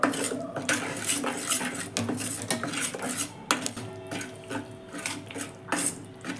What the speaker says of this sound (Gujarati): ગોળ ઓગળે ત્યાં સુધી આપણે એને સતત હલાવતા રહીશું ગોળ ઓગળી રહ્યો છે